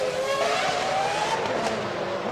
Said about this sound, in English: It's a slow McLaren, lost a lot of speed as he's cruising through.